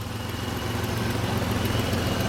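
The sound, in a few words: car engine idling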